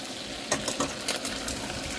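A pig head frying in a pot for adobo is stirred, with several soft scraping knocks over a steady background sizzle, close and moderately quiet.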